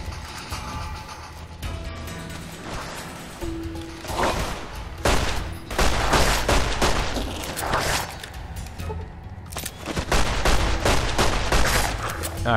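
Repeated gunfire in Fallout: New Vegas, a run of loud, closely spaced shots and bursts that builds toward the end, with game ambience between volleys.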